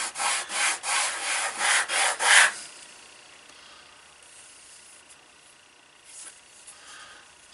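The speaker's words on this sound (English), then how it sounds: "I can see here that I'm sanding on both sides" Rapid back-and-forth rasping strokes of sanding leather edges, about eight in a quick rhythm, up close, then the scraping stops and only faint room noise remains.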